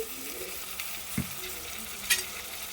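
Chicken joint pieces being mixed with rock salt and turmeric in a pan over low heat, a quiet sizzle with a couple of soft scraping stirs and one brief metallic clink, no voices.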